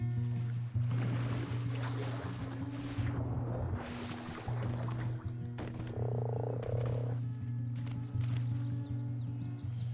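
A tamed frog creature croaks by a lake in ARK, giving a low steady rhythmic drone of repeated croaks over several seconds with splashing and movement sounds layered on top.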